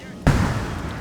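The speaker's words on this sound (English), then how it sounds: "Let's use a barrage." Artillery barrage firing in a Napoleonic-era battle in Napoleon: Total War, heard as a single abrupt booming blast followed by a rumbling decay under continuous battlefield noise.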